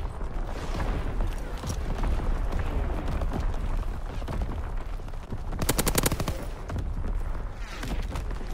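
Gunfire barrage in the Call of Duty WWII video game, dense continuous bursts of machine-gun and rifle fire with booming explosions, loud and sustained, briefly intensifying to a rapid rattling volley.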